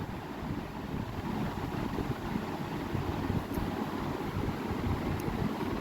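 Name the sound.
water poured into fish curry masala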